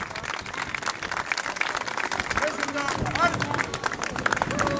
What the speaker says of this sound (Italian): un applauso al gruppo Anno 1000